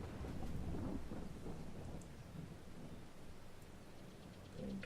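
Rain falls with rolling thunder in the video game Farming Simulator 22, a low continuous rumble and patter, faint and steady, with no talking.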